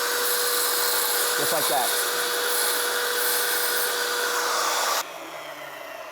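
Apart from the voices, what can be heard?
tile saw cutting backsplash tile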